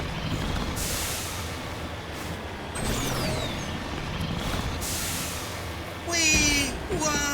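A vehicle in Mass Effect Legendary Edition bounces over rough off-road terrain, with a rumbling engine, repeated thumps and whooshing bursts, and a chirping electronic sweep near the end, mixed with a voice talking over it.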